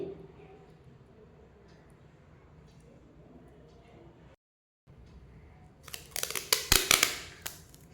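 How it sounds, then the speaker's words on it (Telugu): Adhesive tape being pulled and applied, heard as a burst of sharp crackling, ripping strips near the end after a quiet stretch of low background murmur. "చూడండి టేప్ ఎలా వేస్తున్నాను"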